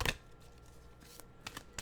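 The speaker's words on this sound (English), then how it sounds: "a shuffling we will do it" Tarot cards shuffled by hand give a few quick, close riffles and soft flicks in short bursts over under two seconds, fairly quiet with no talking.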